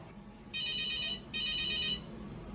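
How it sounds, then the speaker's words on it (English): A mobile phone ringtone plays in two bright electronic bursts with a short gap between them, fairly loud against a quiet room. "Should you be answering the phone in the middle of meditation?"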